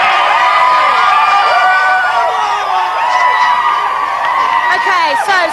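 Outside the Big Brother UK house during a 2001 live eviction, a big crowd cheers, whoops and screams nonstop, a loud dense roar of many voices with no break.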